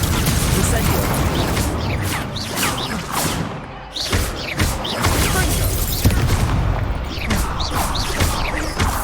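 An Incendio fire spell is cast during combat in the video game Hogwarts Legacy, adding loud whooshing and crackling bursts to a dense stream of spell impacts, thuds and crashes that continue almost without pause.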